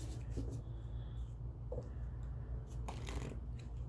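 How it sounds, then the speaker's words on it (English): Oracle cards are shuffled quietly up close, a few soft riffling and flicking bursts over a low steady hum, with no talking. "So I'm just going to shuffle real quick."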